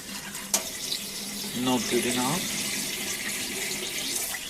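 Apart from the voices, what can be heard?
tap water running while rinsing Japanese rice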